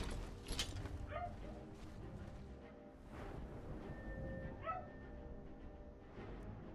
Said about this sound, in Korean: 댕댕이 엄청 짖고 있죠 지금